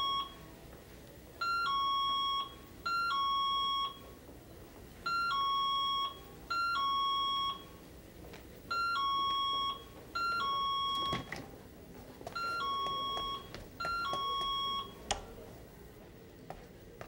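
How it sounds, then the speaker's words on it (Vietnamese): A hospital patient call bell rings in repeated two-tone electronic chime bursts, about eight evenly spaced rings, clear and fairly loud in a quiet ward with no talking. "Bác sĩ Đồng, anh không nghe chuông reo sao? Giường số 6 bấm chuông kìa."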